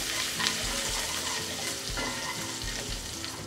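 Ginger and green chillies fry in a pan while being stirred, a dense continuous sizzle close by with soft scraping of the spoon running through it.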